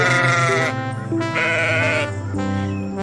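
A cartoon goat gives loud, close bleats, three drawn-out nasal cries separated by short pauses, with nothing else heard around them.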